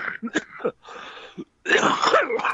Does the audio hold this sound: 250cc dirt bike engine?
no